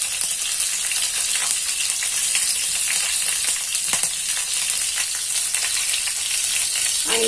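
Chillies and garlic sizzle in hot oil for a dal tempering, a steady, loud, close frying hiss with crackling pops throughout, no voices.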